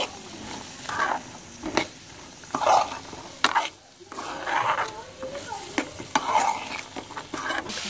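Spiced white chickpeas for chana chaat stirred in a frying pan, with repeated scraping strokes and a soft sizzle, close up and moderately quiet.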